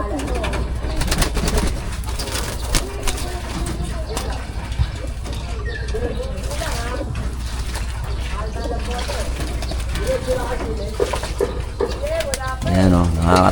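Pigeons cooing in a loft, soft repeated coos under someone talking, with a bird call rising clearly near the end.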